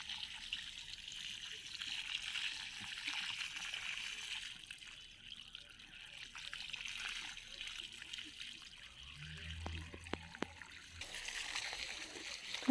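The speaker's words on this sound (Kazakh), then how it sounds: "Түбін суғарып жатырмыз." Water trickles and splashes at the base of an apple tree in an orchard, a steady soft pour running throughout, with a brief low thump and slightly louder splashing near the end.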